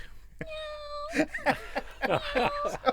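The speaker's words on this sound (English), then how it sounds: "It's a robotic cat called Wilfred, as you hear." A robotic toy cat named Wilfred gives a few electronic, tonal meows, close by, with people talking over and between the calls.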